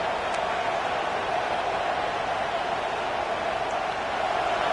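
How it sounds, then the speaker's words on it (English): Stadium crowd noise at a Clemson vs. Georgia football game swells into a constant roar as fans rally behind the defense, a broad, even blanket of cheering with no single voice standing out. "this crowd coming to life here, trying to help the defense get a stop"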